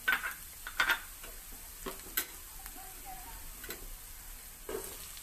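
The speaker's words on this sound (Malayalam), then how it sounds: "ഓക്കെ, ഇനി നമുക്ക് ഇതിനകത്തേക്ക് സവാള ചേർത്ത് കൊടുക്കാം" Long-sliced onions go into a hot pan for cauliflower masala, softly sizzling beneath a few sharp stirring scrapes and taps of a utensil against the pan, fairly quiet and close.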